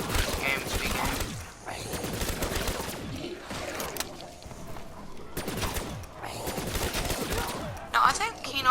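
Rapid bursts of gunfire in the zombies map Kino Der Toten, sharp repeated shots in clusters with brief pauses, loud and close, mixed with game effects and noise.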